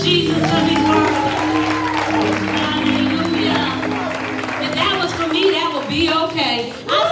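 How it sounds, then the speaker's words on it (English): A church congregation clapping hands together, a continuous crowd of claps blended with voices and music, with a preacher talking over it throughout. "Clap your hands for Jesus, because he's worthy"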